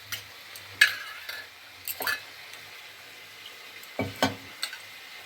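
A spoon stirring yogurt into a spice masala in a pan for a desi egg and sour yogurt curry, giving a few soft scrapes and wet squishes with light sizzling between them.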